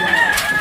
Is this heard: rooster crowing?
yes